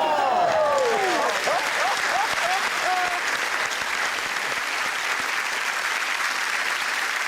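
A television studio audience claps steadily and loudly through the stretch, with excited shouting and laughter over the start before the applause carries on alone.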